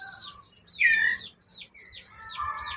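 Young forest birds call in a quick series of bright, wavering chirps close by, one louder squeal standing out before several shorter calls follow in a row.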